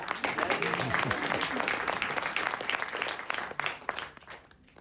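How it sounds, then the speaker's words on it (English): Audience clapping at a Grammy Museum interview event, a steady dense patter of applause that holds for several seconds and thins slightly toward the end, with some voices mixed in. "And yes, clap."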